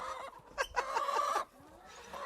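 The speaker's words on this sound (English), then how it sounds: "there's some chickens in the yard" Chickens in a yard clucking, a soft burst of quick clucks and a drawn-out call in the middle, faint against quiet background hiss.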